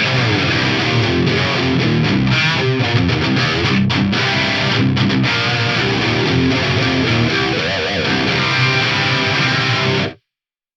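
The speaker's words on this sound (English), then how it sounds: "this 8-voice chorus mode sounds pretty awesome" Dense, shimmering music thick with a lush 8-voice chorus effect from a Universal Audio Golden Reverberator, playing steadily for about ten seconds before cutting off abruptly into silence.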